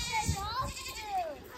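Goats on a farm bleating while waiting to be fed, a few wavering cries over a soft background with faint children's voices.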